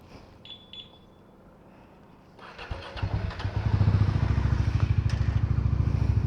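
A Bajaj Dominar 400 motorcycle starts up: a couple of faint beeps, a brief cranking whir, then the engine catches and settles into a loud, steady, pulsing idle close by.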